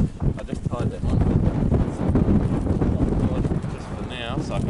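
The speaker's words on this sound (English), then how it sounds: "it's probably all that wind howling noise that everybody loves on our YouTube videos" Wind buffets a microphone aboard a family's sailboat, producing loud rumbling gusts throughout, with people talking underneath.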